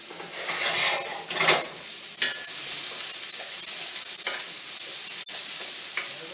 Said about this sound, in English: I basically want to cook this until the onion is transparent or a little bit browned.